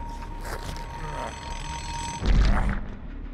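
An alarm clock in Dead by Daylight rings with a bright, steady tone, then a loud burst cuts across it near the end.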